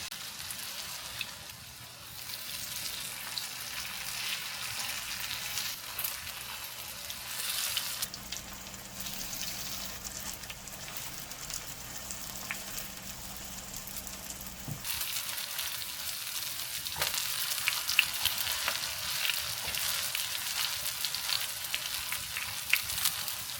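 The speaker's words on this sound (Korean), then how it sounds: "장떡은 이렇게 중불에서 시간을 두고 은근하게 볶아줘야 식감이 쫀득하고 훨씬 맛있어져요." Gochujang pancake batter fries in perilla oil over medium heat, a soft, steady crackling sizzle like light rain on a surface, fairly quiet and alone, with a few spatula scrapes.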